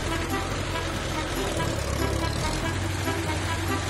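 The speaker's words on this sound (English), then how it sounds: "Monster truck." Monster truck engine rumbling loudly and continuously nearby, a dense low roar with steady mechanical texture from start to finish.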